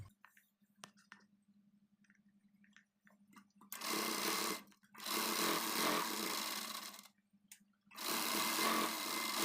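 Sewing machine stitching a blouse back neck, three bursts of fast, steady mechanical whirring separated by pauses, with soft handling clicks in the quiet gaps.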